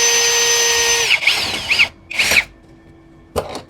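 An APR AP34+ cordless impact drill fitted with a 10 mm socket whirs in a loud, steady whine, then winds down into several short, separate bursts of the motor, close up with no talk.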